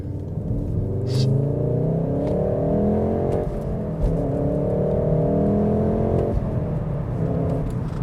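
MK7 VW Golf R engine accelerating, with a steady, fairly loud rumbling drone that rises in pitch through the gears and gives two brief dips at the shifts.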